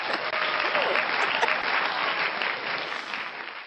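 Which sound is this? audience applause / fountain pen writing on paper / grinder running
audience applause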